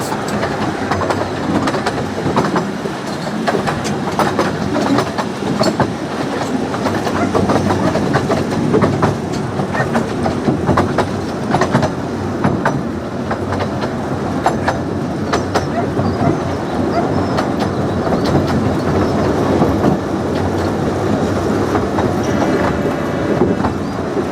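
A Ravenglass and Eskdale Railway train rolls loudly into Dalegarth Station, turning at the end of the line, with steady rumbling and rhythmic clickety-clack of wheels on track, occasional squeals, continuing for a long stretch without talking.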